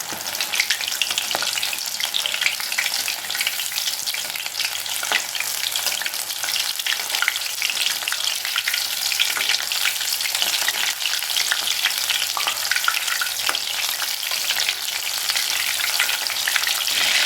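Soya chunks (meal maker) frying in hot oil over a medium flame while being stirred, a continuous bright sizzle with scraping stir noises throughout, no voices.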